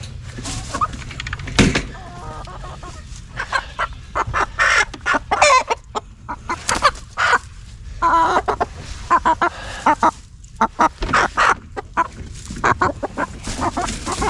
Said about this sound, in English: So that is a bunch of chickens